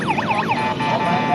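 A toy police car's electronic siren wails up and down in quick repeated sweeps, loud and close, at a street market stall in Tondo, Manila.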